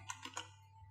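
Typing on a computer keyboard, three quick soft keystrokes in a short burst, faint and close against a low electrical hum, with no voices.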